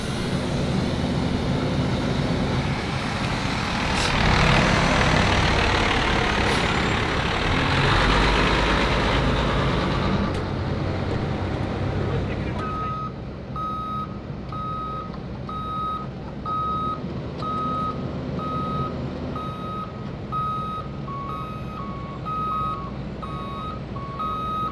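A truck rumbles up at a mill-and-pave road job site, its engine loud for the first half, then steady reversing beeps sound in a regular repeating pattern as the engine noise drops.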